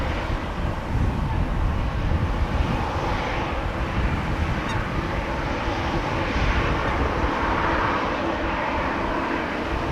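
A 28-year-old Swiss Airbus A320 bound for Zurich rumbles at a distance, a steady low engine roar mixed with wind buffeting, fairly faint and continuous.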